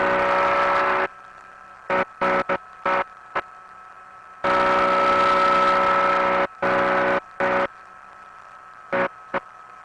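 A Chinook ultralight aircraft engine near 6,200 RPM, a loud droning hum in long bursts broken by silent gaps and short choppy blips.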